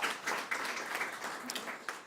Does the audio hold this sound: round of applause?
yes